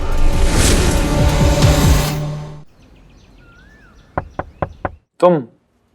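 Four sharp, evenly spaced knocks on a door, close and crisp in a quiet room after louder dramatic music fades, followed by a short vocal sound.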